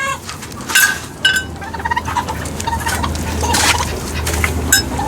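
Chickens being herded into a pen near turkeys cluck and squawk in short irregular bursts close by, over a soft rustling background.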